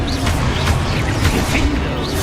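A Confringo spell explosion in Hogwarts Legacy, booming blasts over a steady wash of game effects and music, with some voice in the mix.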